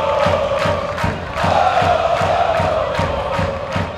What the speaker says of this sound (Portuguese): os torcedores do Rio Branco compareceram em massa para dar apoio ao time do coração